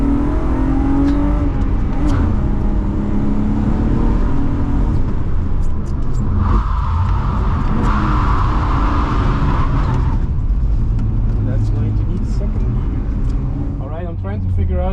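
A 160 hp drift car on a Nürburgring drift layout, engine droning loud and constant as it revs and shifts, with tyre noise layered in and someone talking over the sound throughout.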